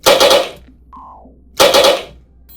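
A rifle fires two loud, close bursts, each a quick cluster of rapid shots about a second and a half apart, with a short mechanical whine in the gap between them.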